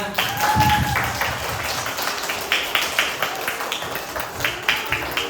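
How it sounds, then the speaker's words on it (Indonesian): A small group at a Buddhist lesson on morality claps, starting loosely and settling into sharp, fairly rhythmic hand claps, close and moderately loud. "Yuk tepuk tangan semuanya."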